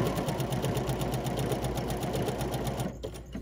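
A sewing machine stitching an applique, running in a fast steady whirr of rapid needle strokes close by, then slowing and stopping near the end.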